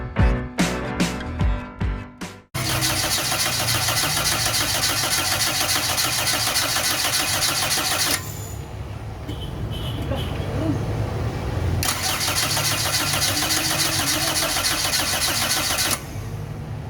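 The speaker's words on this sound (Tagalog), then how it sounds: "ayaw umandar kahit anong pilit kong i-start" Toyota 4A-FE engine with a no-start fault cranking in several short uneven bursts, then a long steady mechanical whir near the microphone that drops back briefly and returns, sounding like a starter turning without the engine catching.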